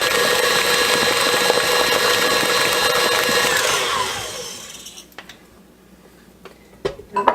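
An electric mixer beats egg into sugar and butter for pecan roll cookies, a loud steady whirr that winds down and stops after about four seconds, followed by quiet bowl clinks and scrapes.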